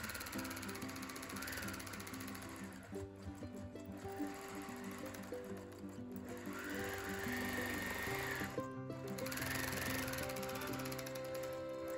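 Juki long-arm sewing machine with a stitch regulator running steadily, a faint continuous mechanical whir with a ticking, ratchet-like rhythm throughout and no talking.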